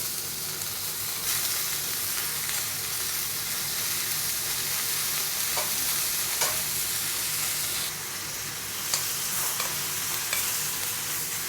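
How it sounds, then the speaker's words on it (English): A cauliflower steak sizzles in a generous amount of butter in a hot pan, a dense continuous hiss and crackle with occasional sharp spatters and spoon scrapes, no voices. "now it's time to go in with a generous amount of butter"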